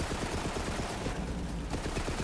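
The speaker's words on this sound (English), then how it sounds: "I just started shooting Maya." Rapid gunfire rattles without pause in Borderlands 3 during a boss fight, dense automatic bursts filling the whole short stretch at close range.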